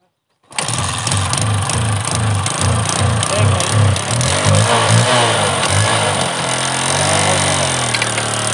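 A motorcycle engine fitted with a glass Coca-Cola bottle starts and runs loudly and close, with a rough, pulsing idle and a steady throb under a harsh, buzzy rattle.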